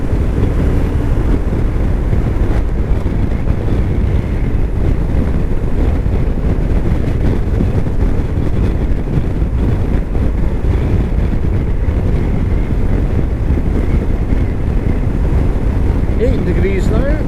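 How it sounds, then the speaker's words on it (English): Strong gusting wind buffets the microphone continuously while riding in Perthshire, a loud broadband roar that never lets up, with no clear voice above it. "Pretty windy."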